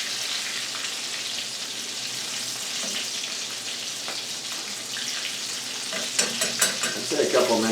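Calamari tentacles and rings fry in hot oil with a steady, dense sizzle, growing brighter with sharper crackles and pops toward the end; no talking.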